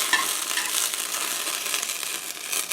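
A spoon stirs and scrapes fried bits off the bottom of a hot pan while liquid simmers and the alcohol cooks off, a close, busy crackling scrape with no talk.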